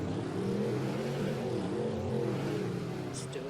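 An engine revs hard in a monster truck race, a loud, sustained low roar with rising and falling pitch, close and continuous.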